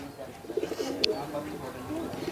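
Tawde and Kaldume pigeons coo softly in a low, rolling murmur nearby at evening, with a brief sharp noise partway through and a voice talking over them.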